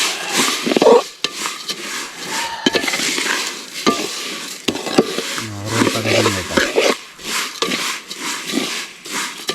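Vermicelli with cashews and raisins is stirred in a pan for payasam, with uneven scraping and light frying sizzle. A brief low droning tone rises midway.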